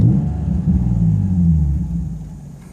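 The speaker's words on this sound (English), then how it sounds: "and as you can see, the car's idling just fine." A Nissan 350Z with a Bullydog GT tune and raised idle settles into a steady, close, deep rumbling idle, with no talk over it.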